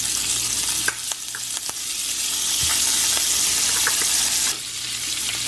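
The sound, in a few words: salmon sizzling in butter with rosemary, thyme, garlic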